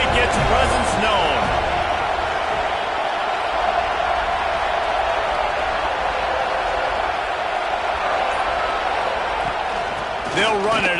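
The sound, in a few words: college football stadium crowd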